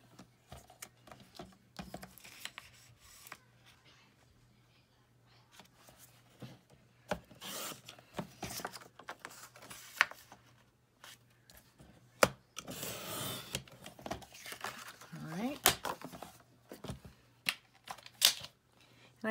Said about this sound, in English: I'm going to trim it out to a 5x7 size, which just means I need to trim an inch off of either side.